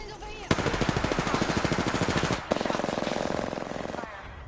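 Rapid automatic gunfire from a competitive shooter game rattles in dense, continuous bursts, with a short break in the middle before a second sustained burst that gradually fades.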